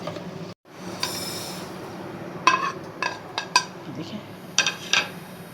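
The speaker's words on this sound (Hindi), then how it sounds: "हम इसे थोड़ा सा भूनेंगे।" Whole spices (coriander seeds, mustard seeds, fenugreek and nigella) dry-roast in a pan over medium heat for mango pickle. A spoon scrapes and clinks against the metal in scattered strokes, and a brief word is spoken.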